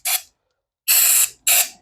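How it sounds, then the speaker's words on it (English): Three short bursts of hissing aerosol brake cleaner sprayed into a parts pot, close up, with brief silences between them. "And we are going to spray brake cleaner"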